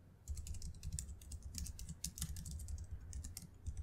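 Java code typed on a computer keyboard: a quiet, continuous patter of rapid key clicks with small accented taps, close by and with no speech.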